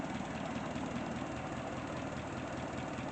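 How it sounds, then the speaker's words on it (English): An old Case tractor engine idles at a steady pace, a dense low knocking chug that runs unbroken and fairly loud, with no voices over it. "This is an old tractor, and it's got a lot of stuff on it."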